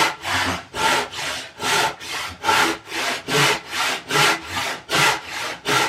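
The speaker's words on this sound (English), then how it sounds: "Now obviously you're going to cut where you made your bevel on the waist side." A hand saw cuts a wooden tenon on a workbench in steady, close back-and-forth strokes, about two per second, each a loud rasping pulse, with no talking over it.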